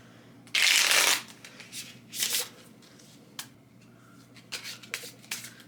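A deck of cards riffled in a single loud, close shuffle lasting about half a second, followed by several softer taps and rustles as the cards are squared and handled, with no talking.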